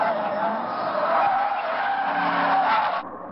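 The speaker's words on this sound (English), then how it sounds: "beautiful little drift as the car just seems to absorb the bumps mid-drift" A fast car drifts on a race track with its tires squealing loudly and continuously, mixed with engine noise, before the squeal cuts off abruptly near the end.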